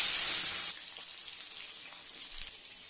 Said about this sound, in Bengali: তেল গরম হয়ে গেছে, মাছ ছেড়ে দিই।